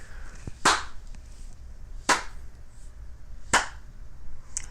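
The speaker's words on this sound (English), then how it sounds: "You hear a sound of clapping hands" Three sharp, separate hand claps spaced about a second and a half apart over a quiet, faintly humming background, each crisp and fairly close.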